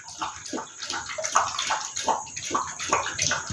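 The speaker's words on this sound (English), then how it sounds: "He's drinking water" A chow chow dog laps water from its bowl, a quick run of wet, sloshing laps repeating at close range with faint splashing between them.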